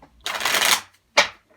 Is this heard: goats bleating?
no